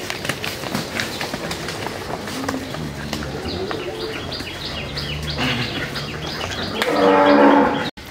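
Large dairy cow with calf mooing repeatedly at a Bangladeshi cattle market, long tonal calls rising over a busy background of crowd chatter and a loud rushing burst near the end.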